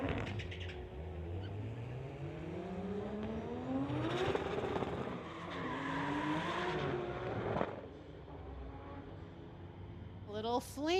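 Street-legal drag race cars, a Hyundai Elantra and a Toyota Supra, rev and launch down the strip, engines climbing in pitch as they accelerate away, under a commentator's talk.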